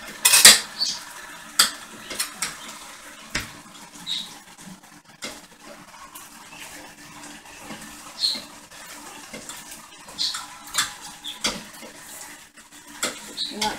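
Tamale ingredients are mixed by hand in a bowl with a utensil: scattered clinks, taps and scrapes come irregularly for about fourteen seconds, close by, with a few louder knocks and no talking.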